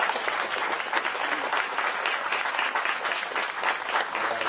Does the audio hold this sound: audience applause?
yes